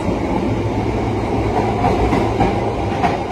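An Indonesian passenger train rolls steadily along the rails, a constant rumble with faint rhythmic clatter from the wheels, heard from inside an accessible carriage.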